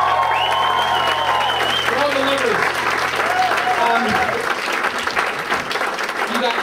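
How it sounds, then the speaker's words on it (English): A live audience breaks into loud, sustained applause and cheering after a doo-wop song, while a voice carries over the clapping at the start. "I'm absolutely humbled by the applause"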